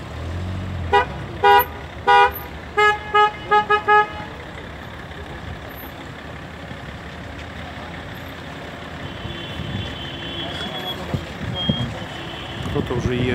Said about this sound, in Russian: машины все заезжают и заезжают.